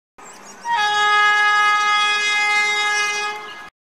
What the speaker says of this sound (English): Loco pilot shall give long whistle for the ALP to come.